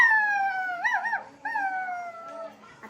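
A person imitates a dog howling, one drawn-out, wavering howl that rises and falls before trailing off, close and loud with no other sound.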